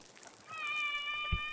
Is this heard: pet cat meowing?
yes